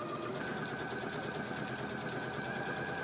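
A sewing machine stitching a dart in dress fabric runs continuously with a fast, even mechanical whir and rattle, close and steady throughout with no talk.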